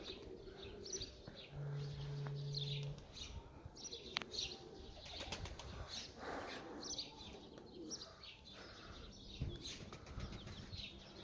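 Pigeon wings flap in short bursts as a flock is flown together for exercise, amid steady outdoor noise, with soft cooing and a few chirps in the background.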